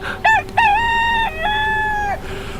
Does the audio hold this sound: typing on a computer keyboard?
no